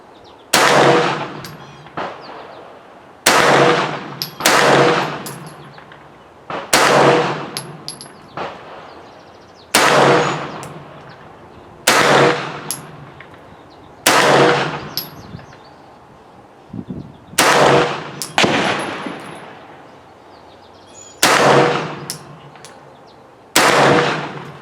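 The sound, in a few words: PSA AKV rifle shots at shooting range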